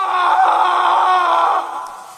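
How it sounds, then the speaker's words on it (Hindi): A man screams in a horror story, one long loud sustained cry that holds strongly and then fades slightly toward the end, heard alone with no talk. "और फिर अचानक किसी आदमी के चीखने की आवाजें आनी शुरू हो गईं।"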